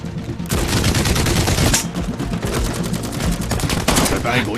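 Rapid automatic gunfire rattles in a continuous loud burst during a Russian task-force shootout, dense close bursts with brief pauses and shouting voices mixed in.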